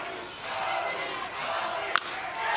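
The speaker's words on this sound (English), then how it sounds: "she can hear the cheering on the other side" A large crowd cheers and roars continuously at a Little League World Series baseball game between Lake Mary, Florida and Wailuku, Hawaii, with a sharp crack cutting through the sustained noise.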